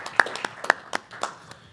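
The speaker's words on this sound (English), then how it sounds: "So let's give you a round of applause and thank you for your service." A few people clap at a school board meeting, a sparse, light round of handclaps in a small room, the separate claps clearly distinct and fairly quiet.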